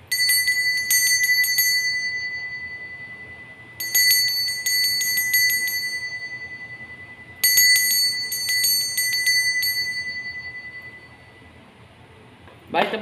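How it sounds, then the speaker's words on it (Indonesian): A small bell rings in three bursts of rapid repeated strikes, each burst bright and ringing out before fading, separated by short pauses, with no talking. "kita akan memulai dengan ditandai lonceng berbunyi"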